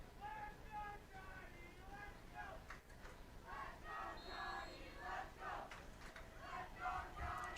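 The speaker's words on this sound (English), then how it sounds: "Sheboygan North cheering section, cheering for Johnny." The Sheboygan North football cheering section chants and shouts together in a rhythmic, distant crowd roar, with an announcer talking over it.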